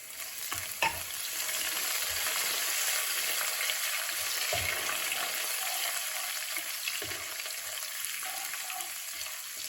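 Ginger, green chili, garlic and curry leaves fry steadily in hot oil for a mutton stew, a continuous close sizzle broken by a few louder stirring scrapes, with no talking.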